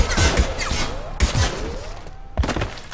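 Gunfire in the Mass Effect 2 video game: three heavy, booming shot bursts spaced about a second apart, loud and close, with the reverberant thuds of a cinematic firefight.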